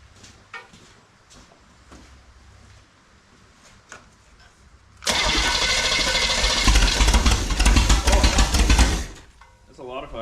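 A small-block Chevy engine, stored outside and unrun for years, roars loudly for about four seconds as transmission fluid is fed through it, with quieter handling noises and faint background sound before and after.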